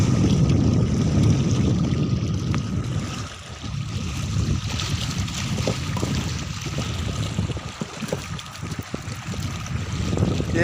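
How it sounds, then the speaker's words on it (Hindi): Waves lapping and churning on open reservoir water at a dam, a continuous close rushing wash with wind noise and no voices. "देखिए किस प्रकार से लहरें उठ रही है पानी का"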